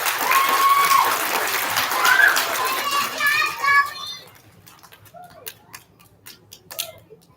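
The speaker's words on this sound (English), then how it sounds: "Give our transportation nominations a round of applause." An audience at a Bell Elementary school student recognition ceremony claps for about four seconds, loud and dense at first, then thins into a few scattered claps and small noises.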